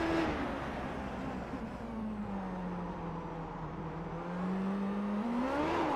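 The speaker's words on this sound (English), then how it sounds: "Let's listen to the engine note then down in towards the hairpin." IndyCar race car in a racing video game, heard onboard as it drives down toward a hairpin at Montreal: a loud, continuous engine drone whose pitch slides down as it slows for the turn, then rises again near the end, with no talk.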